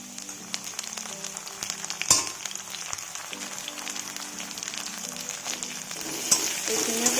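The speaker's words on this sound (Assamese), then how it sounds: "এইখিনিও কেঁচা গোন্ধ যোৱালৈকে ভালদৰে ভাজি ল'ম" Chopped ginger and garlic fry in a pan for a home-style Assamese vegetable meal, a soft steady sizzle with faint clicks and a sharp clatter near the two-second mark, growing slightly louder toward the end; no one speaks.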